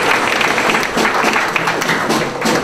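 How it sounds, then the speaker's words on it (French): An audience at a national youth league gathering applauds a delegate from Brazzaville, producing a dense, steady wash of many hands clapping at once, loud and continuous. "Je voudrais qu'il soit applaudi."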